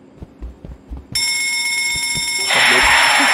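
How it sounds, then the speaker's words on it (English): A bell rings in the horror video game Escaping the Backrooms, a sudden bright sustained ring that cuts in after soft thumping footsteps and keeps sounding loudly, with a hiss joining it near the end. "Ring the bell, ring the bell."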